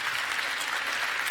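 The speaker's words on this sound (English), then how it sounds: "Big applause" A conference hall audience bursts into dense, continuous applause for a speaker coming to the podium, a loud, even wash of many clapping hands.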